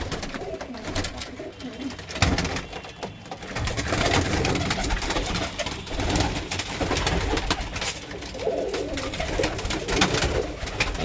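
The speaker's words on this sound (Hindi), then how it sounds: "ये ब्लू आइज कबूतर अभी भाई ने दिखाया आपको, ये अपना 82 कबूतरों में से बना हुआ कबूतर है।" A blue-eyed pigeon coos nearby in low, repeated throaty calls, set against a busy background of other pigeons and ambient noise.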